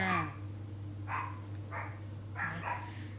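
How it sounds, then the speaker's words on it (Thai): A dog barks several times, moderately distant, in short yelps spread through the moment over a steady low electrical hum. "เสียงสุนัขอ่ะไม่เป็นไรเนาะเพราะว่าไหนๆมันเป็นเรื่องธรรมชาตินะคะ"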